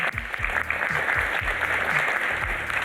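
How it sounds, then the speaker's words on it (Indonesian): Steady applause from a studio audience, dense clapping throughout with a few voices underneath. "Boleh tepuk tangan buat kita semua."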